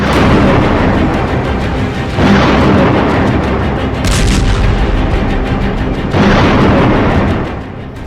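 Israeli strikes on the Gaza Strip during the Israel–Gaza war produce loud, rumbling explosions and artillery booms. Several heavy blasts roll into one another over about eight seconds, deep and reverberant, with no voices.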